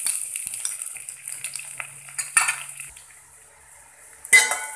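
Onions fry in oil with cinnamon, cardamom and two or three bay leaves, a steady sizzle broken by light clinks of a spatula against the pan, with a louder scrape near the end.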